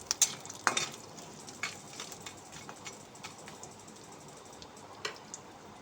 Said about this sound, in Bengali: তো বড়িগুলো আমার ভাজা হয়ে গেছে